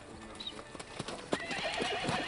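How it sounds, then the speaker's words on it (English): A wild horse bucks to throw off its saddle: quick, irregular hoof thuds on the ground, a loud whinny midway, and snorting breaths, all close by with no talking. "He tries to buck the saddle off."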